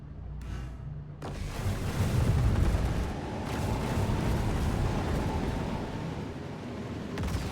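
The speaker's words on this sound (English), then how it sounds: "A couple of explosions and some rams happen. Random explosions everywhere." Random explosions erupt during a racing video game duel, a dense, sustained roar of booms and rumbling blasts after a brief quiet start, loud and continuous with no talk.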